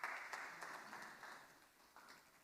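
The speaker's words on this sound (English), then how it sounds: "Please give him a round of applause." Applause at an international urban mobility and smart cities forum, a faint, steady patter of many hands from a distance, fading slightly toward the end.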